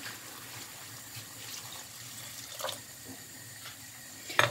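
Water pours into a pot of Cuban-style yellow rice with pork as it cooks, a faint, steady trickle and splash close by, with a couple of louder clinks and splashes near the end.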